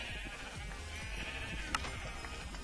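Sheep bleating in the Minecraft video game, with a single short bleat standing out midway over a steady bed of game background sound.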